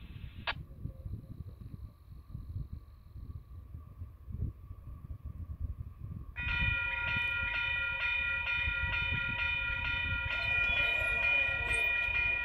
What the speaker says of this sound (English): got a train going westbound